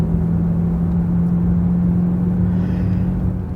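A car driving at steady speed with a suspected bad wheel bearing, giving a loud continuous low drone and rumble with a steady hum throughout and no talking.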